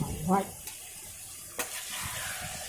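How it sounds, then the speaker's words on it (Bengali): Softened onions fry with salt and turmeric in a pan, a brief stir giving soft scraping and a quiet sizzle, with a short voice at the start and a sharp utensil knock partway through. "এবার একটু নেড়ে দিলাম।"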